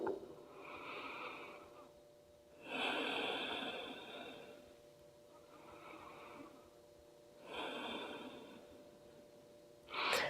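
Slow, deep, audible breaths during a gentle yoga twist, three long airy exhalations rising and fading at a relaxed rhythm, close and quiet with no talk.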